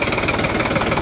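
An Indo Farm 3048 DI tractor engine idles steadily nearby, a low, even diesel chug with a slight rhythmic throb.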